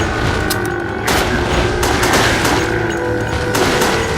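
Rapid gunfire from the Resident Evil Darkside Chronicles video game, Antarctica level, with repeated sharp shots over a dense, loud backdrop of game action, bursts recurring throughout without a pause.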